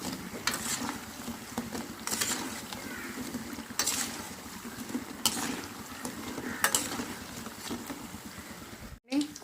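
Small chitti punugulu batter fritters deep-fry in oil, giving a steady crackling sizzle broken by regular louder clinks and scrapes of a utensil against the pan.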